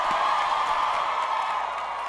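A graduation ceremony audience applauds and cheers, a thick, even wash of clapping and crowd noise holding steady throughout, with no clear talk over it.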